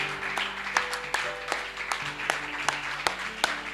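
Scattered clapping from a church congregation during worship, individual sharp claps standing out at a moderate distance over a sustained organ or keyboard tone and a faint room murmur.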